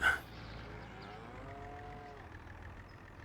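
Cows moo in the farming video game Farming Simulator 25: one drawn-out, wavering low moo sounds at moderate volume, with other faint calls over a steady farmyard ambience.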